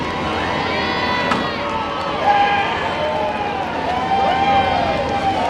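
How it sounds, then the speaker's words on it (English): A crowd at a county demolition derby cheers and claps in a broad, continuous wash of noise, with an announcer's amplified voice speaking over it. "Give them a big round of applause, ladies and gentlemen."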